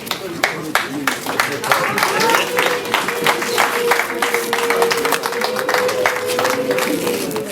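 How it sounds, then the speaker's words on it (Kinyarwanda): Wedding guests clapping for the bride and groom, steady rhythmic applause from a crowd over several seconds, with a voice talking over it. "Amashyi menshi cyane mes chers amis"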